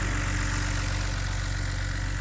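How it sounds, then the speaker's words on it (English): A BMW N52/N54 straight-six engine idles steadily close by, a continuous even hum with a faint rhythmic tapping from the tappets running through it. "Lovely ticking of the old tappets in the injectors."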